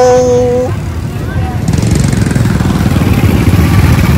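A motorbike engine runs steadily and close by, a low rumbling drone that swells after a short pause amid the busy noise of a crowded market in Vietnam.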